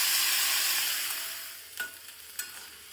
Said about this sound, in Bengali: আমি পেঁয়াজ আর ক্যাপসিকাম দিয়েছি, আর একটু আদা কুচি দিয়েছি